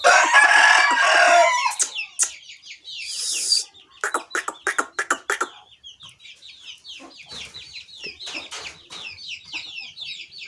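An Aseel rooster crows repeatedly at close range, loud drawn-out calls broken by sharp clucks and rustling, with small birds chirping faintly in the background.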